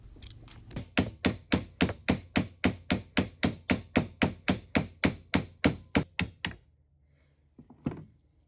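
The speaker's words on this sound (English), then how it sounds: "a few taps from a brass hammer I should be able to get it off" Brass hammer tapping a tight handle on a 1960 South Bend lathe compound, about twenty sharp evenly spaced metallic blows in a quick steady rhythm, close, then a pause and one softer knock.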